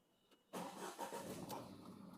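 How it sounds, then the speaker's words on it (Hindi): A Tata Tiago petrol car with an ECU ground fault: after a brief quiet moment, the engine cranks and catches abruptly, settling into a steady, close idle. "तो गाड़ी अपने हाफ सेल्फ में स्टार्ट हो गई।"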